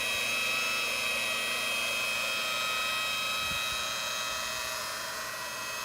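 Machine polisher running steadily with a pad and coarse compound on a car finish, a continuous close whine and whir that fades slightly toward the end, with no speech.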